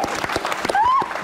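A studio audience on a television talk show breaks into a brief burst of applause. Voices mix in with the clapping, and a short rising whistle-like tone sounds near the end.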